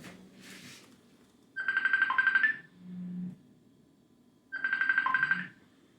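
Phone ringtone sounding in two clear bursts of warbling electronic tone, each lasting about a second, separated by pauses with low background hum and brief murmurs between.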